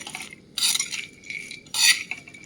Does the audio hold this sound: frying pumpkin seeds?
yes